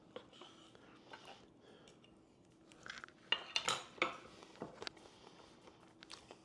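A knife slicing a cooked medium-rare rib steak on a plate, with soft scraping and clinks of cutlery and dishes building to a louder cluster midway, close and quiet with no talking.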